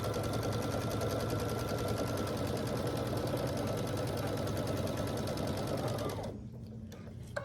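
A sewing machine stitches a quarter-inch quilt seam in one fast, even run of rapid mechanical chatter, close and steady, then stops near the end, leaving faint handling clicks.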